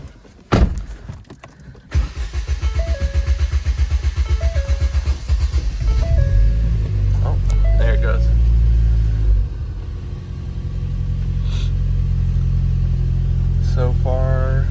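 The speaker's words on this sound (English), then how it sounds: "So let's see if it'll start and run." A modified turbocharged Ford Fiesta ST with a new fuel system and fresh tune cranks several times, catches and settles into a loud, close idle with a blip of revs, while people talk over it.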